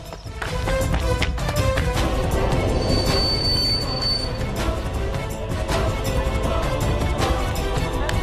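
A train arriving at Andheri station, a loud rumbling roll of wheels on rails with rhythmic clacking and a brief high squeal, close and continuous.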